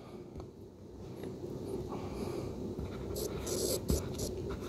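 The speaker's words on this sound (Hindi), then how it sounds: "इसको हम ऐसे लिखेंगे" Writing on a board during a class 12 matrix lesson gives faint, close scratching and tapping strokes that build over a few seconds, with a sharper tap near the end.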